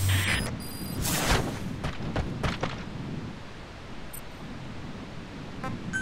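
Cover fire in a video game: a cluster of muffled booms and gunshot cracks in the first few seconds, then a steady rumbling background noise with a few faint distant pops.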